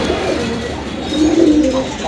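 A female pigeon, one of several domestic and foreign pigeons kept for sale, gives a single soft low coo over a steady background hum, close and brief with no talk.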